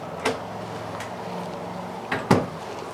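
Cabinet doors inside a 2019 Eclipse Attitude 32 GSG toy hauler travel trailer open and shut, giving a few sharp knocks and clicks over a quiet room hum, with the last two close together.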